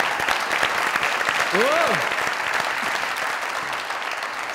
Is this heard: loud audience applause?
yes